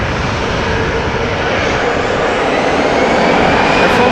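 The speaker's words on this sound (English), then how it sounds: "Air France A321 off to Paris" An Air France Airbus A321 takes off for Paris at Amsterdam Schiphol, its jet engines producing a loud, dense, continuous roar close by.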